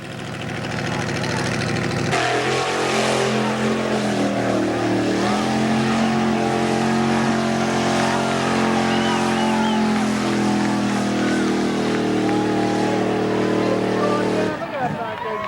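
A Chevrolet-powered Toyota truck roars through a mud bog, its engine revving hard and loud for a long sustained run before cutting off near the end.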